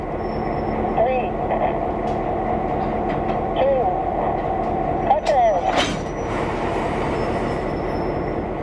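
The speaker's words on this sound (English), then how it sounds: "Then Mike cuts off and pulls the 8330 to the south end of the main line" A GP10 locomotive moving rail cars on a museum railroad, a steady rumbling roll with squealing wheels and clanking couplings, a sharp clunk near the end, and voices talking faintly underneath.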